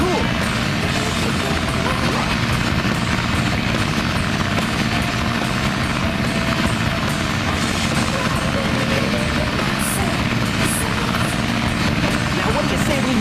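Steady roaring engine drone of a plane in the Sonic Adventure DX video game, continuous and loud with a constant rumble, while voices talk over it.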